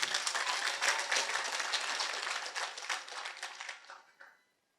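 An audience claps in a dense, steady burst at a gathering for South Sudan's vice president visiting Arizona, then the clapping thins and fades into silence.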